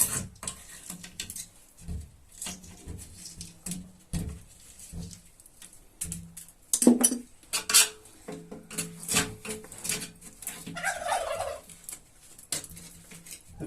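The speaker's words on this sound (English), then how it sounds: "The turkeys are obviously next door." Turkeys in a neighbouring yard give scattered gobbling calls at a modest distance, mixed with clinks and knocks like dishes or utensils being handled nearby.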